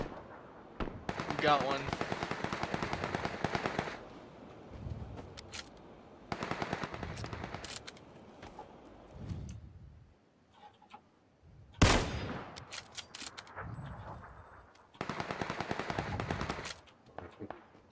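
Gunfire in the video game PUBG comes in loud automatic bursts, with rapid rattling volleys separated by short pauses and a sharp single crack near the middle. Players talk over the shooting.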